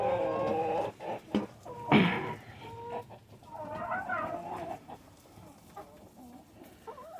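Chickens and a rooster in a backyard coop cluck and squawk in bursts of overlapping calls, close and lively, with one louder squawk and softer murmuring clucks in between, no talk.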